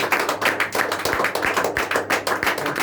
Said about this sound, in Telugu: గట్టిగా వీళ్ళంతా గట్టిగా చప్పట్లు కొడదాం